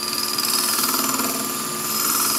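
A lathe spins steadily with a point tool cutting a small chamfer into cast resin for a threaded needle case, giving a continuous, even, high-pitched whine at turning speed.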